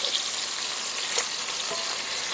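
Burger patties sizzle loudly in melted butter on a hot pan with a bright, continuous crackle, and short spatula scrapes come through as they are flipped.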